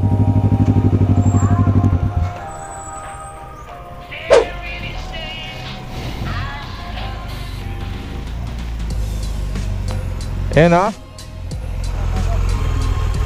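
Kawasaki Ninja 650 motorcycle engine idling loudly and close at a training camp, a steady low rumble that fades in the middle while people talk, then returns strong at the end.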